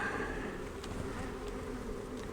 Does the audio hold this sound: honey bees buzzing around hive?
yes